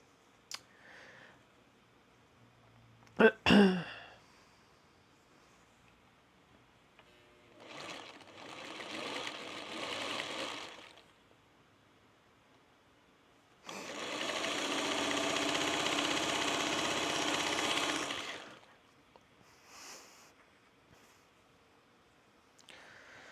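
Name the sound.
sewing machine stitching quilt pieces from a charm pack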